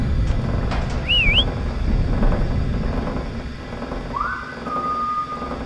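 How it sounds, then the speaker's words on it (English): A player character whistles in the horror game Lazaret, set aboard an abandoned ship: a short wavering whistled tone, then a longer steady one, both over a constant low rumbling ambience. "Press Q to whistle, revealing nearby threats."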